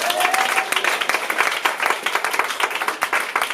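Applause from a church congregation during a French-language service, dense and steady clapping filling the room throughout, loud and close with no speech over it.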